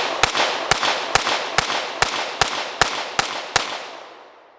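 Nine evenly spaced pistol shots from a Staccato C fitted with a shorter aftermarket recoil spring crack out at an outdoor shooting range, each sharp report trailing off, with a long fading echo after the last round.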